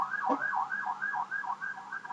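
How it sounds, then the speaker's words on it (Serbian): A siren in the Spinz.io video game wails in a fast, repeating up-and-down sweep, loud and steady, with one brief sharp blip near the start. "A šta je ovo više sirena"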